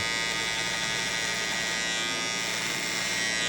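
Electric hair clippers buzz in a steady, continuous drone throughout, close and fairly loud, while cutting coarse straight hair with the clipper-over-comb technique.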